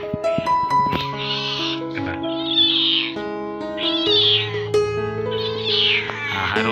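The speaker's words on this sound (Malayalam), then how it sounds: "ഇവിടെ കുട്ടു എന്ന് പറയുന്നൊരു പൂച്ചയെ കാണണം" A house cat meows repeatedly in a home kitchen while an egg roast is being prepared, clear close high-pitched calls in a drawn-out series, with other voiced sounds mixed in.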